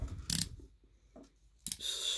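A toy die-cast 1965 Ford Econoline display van package is sliced open, giving sharp crinkly cuts and rustles of plastic packaging with quiet pauses between the cuts, close and fairly soft.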